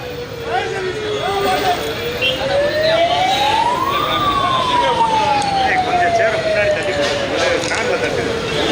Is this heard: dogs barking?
no